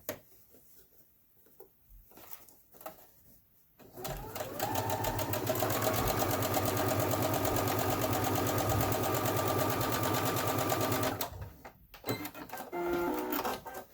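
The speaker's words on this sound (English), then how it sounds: "kept sewing them one right after the other, and they were just cranking right through there" A sewing machine stitches fabric pieces one after another, starting after a few quiet seconds of light handling, then running in a steady, loud, close mechanical chatter for about seven seconds before stopping, with brief handling noises around it.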